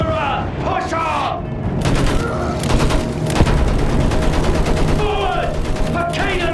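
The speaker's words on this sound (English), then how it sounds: "Use that machine gun! Mow them down!" Machine gun fire in Battlefield 1 trench warfare, a sustained loud rattle of rapid shots under shouted voices, with booms and mechanical clatter around it.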